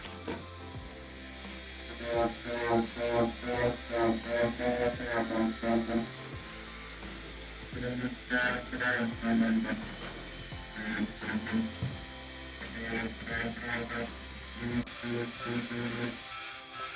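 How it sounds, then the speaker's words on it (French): A small electric nail file whirs in short bursts, its pitch rising and dipping as it sands around a fingernail, close and steady. "je vais prendre mon petit embout de ponceuse et faire le contour de mon ongle"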